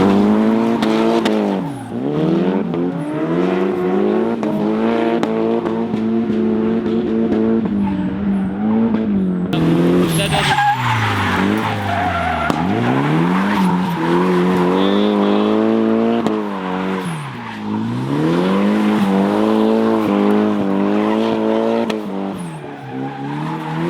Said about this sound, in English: show what a 240sx, when done right and prep for drifting,